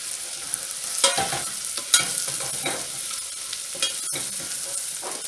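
Shallot and garlic frying in butter while being stirred, a continuous sizzle broken by several scraping, clattering utensil strokes across the pan, close and fairly loud with no talking.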